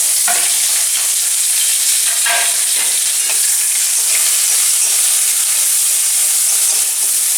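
Ginger, garlic and green chillies hit hot spiced mustard oil during the making of hilsa biryani, giving a loud, steady, close sizzling hiss throughout, with a few faint stirring knocks near the start.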